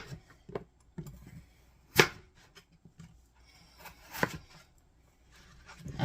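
Potatoes being chopped on a cutting board for dry canning, with scattered knife strikes at an uneven pace and one sharp, loud chop standing out among quieter taps and handling noises.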